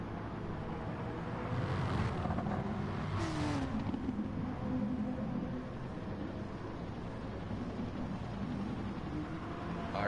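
Race car engine of the RS01 in a Gr.3 open-lobby online race in Gran Turismo Sport, a steady loud drone with rising and falling revs and gear changes throughout, no voices.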